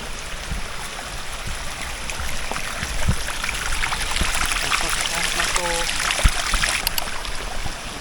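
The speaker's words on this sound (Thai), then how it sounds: "นี่น้ำตกครับ" Steady rushing and splashing of a waterfall on a trail course in Nakhon Nayok, Thailand, continuous and close, with a brief faint voice partway through.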